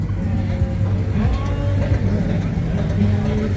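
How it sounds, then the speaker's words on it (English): Night traffic rolls along a beach road in Pattaya, a steady rumble of car engines and tires passing close by, with faint voices drifting in the background. "A little beach road traffic."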